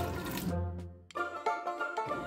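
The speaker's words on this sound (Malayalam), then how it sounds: "കുറച്ചുകൂടെ വെള്ളം ഒഴിക്കാം." Water splashes briefly into a pressure cooker of Kerala-style clam meat being readied for stir-frying, a short close pour that gives way to quieter clinking and kitchen sounds.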